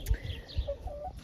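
Two chickens cluck softly in a coop with a partly removed wall, short low clucks and a few higher notes repeating close by against faint background hiss.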